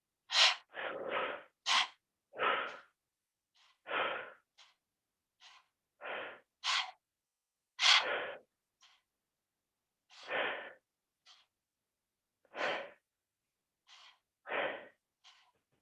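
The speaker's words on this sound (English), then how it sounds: "Take a deep breath in and go." Deep, forceful breaths drawn in and pushed out during a pranayama breathing exercise, about a dozen close, loud inhales and exhales in a steady, quick rhythm with brief silences between them.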